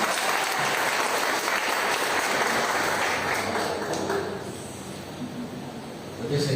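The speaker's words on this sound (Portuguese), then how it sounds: "Dá uma salva de palmas para Jesus" Loud, sustained applause from a large church congregation during a worship service fills the space, holding steady before tapering slightly near the end and swelling again.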